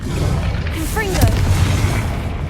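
Confringo blasting spell going off in Hogwarts Legacy: a loud, deep booming burst with a rumbling tail, mixed with spell effects and a voice.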